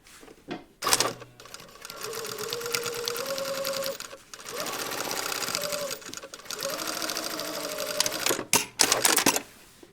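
A sewing machine stitches a zipper pocket, running steadily and close with a whirring hum over several seconds, broken by a few brief stops and handling clicks.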